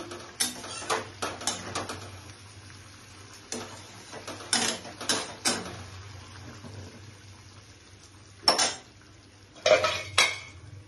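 A lid goes onto a pan of paneer curry in a home kitchen: scattered metallic clinks and clatters in small clusters, with quiet gaps between them over a low steady hum.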